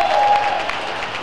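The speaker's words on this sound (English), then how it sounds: "As we get a loud reaction from the crowd." Crowd applause at a girls varsity swim meet after a dive, a steady burst of clapping and cheering that carries through without pause.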